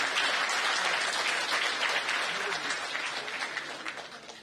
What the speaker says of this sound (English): Please give a huge round of applause for our guest of honor.